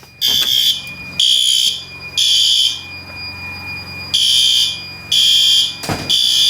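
A fire alarm horn strobe in a building blasts a loud, harsh electronic horn in repeated bursts about a second long, separated by short gaps, with a faint clatter in between.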